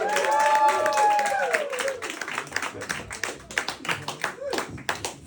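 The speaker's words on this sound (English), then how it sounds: "everyone clap your hands, make some noise for my boy" Comedy club crowd at Comedy Cabin clapping and cheering as a comedian is welcomed to the stage; a loud cheer opens, then uneven clapping and scattered whoops thin out, with voices calling over it.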